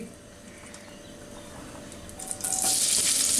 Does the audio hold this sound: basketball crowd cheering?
no